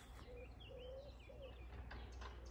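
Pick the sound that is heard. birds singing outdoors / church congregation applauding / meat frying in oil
birds singing outdoors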